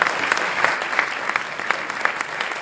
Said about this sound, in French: Ce que je vous demande juste, c'est qu'on applaudisse nos intervenants si vous le voulez bien.